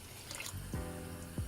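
Water poured into a pot of rice and coconut milk for nasi lemak, a quiet steady splashing trickle with faint gurgles, close by and alone.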